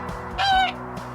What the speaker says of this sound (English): Geese honk just like flamingos, but a little louder.